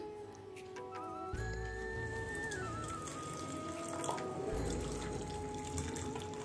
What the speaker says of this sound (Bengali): তো চলো চাটা ঢেলে নিই